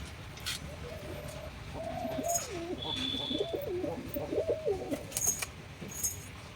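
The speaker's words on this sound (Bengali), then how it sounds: "এই এক পেয়ার পায়রা কামাগার আর গোল্ডেন তো পায়রা দুটো দেখুন" A pair of Giribaz pigeons coo in soft, repeated throaty rolls, several calls in a row close by, with a little faint background chatter.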